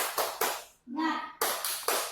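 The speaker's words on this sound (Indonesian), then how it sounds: "Ayo berdiri semua, kita tepuk semangat." A standing school class doing a rhythmic spirit clap in quick sharp bursts, paused briefly while the female teacher leading it calls out, then the claps resume in a steady pattern.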